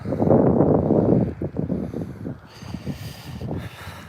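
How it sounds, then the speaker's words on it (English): Wind buffeting a phone microphone outdoors on a cold 35-degree day during a fresh air drive, a loud rough rumbling gust that surges and then eases into softer fluttering noise. "you can hear the wind"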